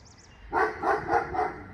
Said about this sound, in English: That's the neighbor's dog, Cooper.